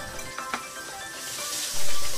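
Pre-seasoned tuna fries in hot oil with a steady sizzle, a few small pops, and a louder burst of crackling near the end.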